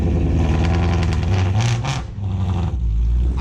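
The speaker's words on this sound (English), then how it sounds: "you said it's catalyst long tube with an X pipe. That's what it sounds like" Ford Mustang S550 with catless long tube headers and an X pipe, revving at a car meet in Brandon, Florida: deep loud rumbling exhaust rising in a couple of throttle blips, then settling back to a burbling idle.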